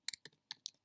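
Computer mouse clicks on a website button, several crisp, close clicks in quick irregular succession, each sharp and brief, with silence between them.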